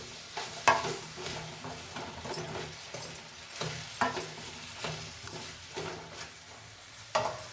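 Ridge gourd fries and sizzles in a spiced tempering while a spoon stirs and scrapes the pan, with soft crackling and occasional sharper clinks. There is no talk.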